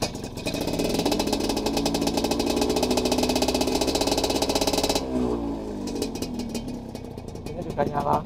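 A Yamaha 125ZR motorcycle engine, not yet warmed up, idles close by with a steady, throbbing rumble, then drops to a rougher, lower chug; a voice speaks over it.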